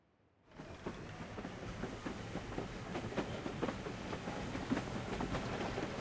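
A train rolls along after a quiet start, its steady rumble marked by rhythmic clickety-clack beats.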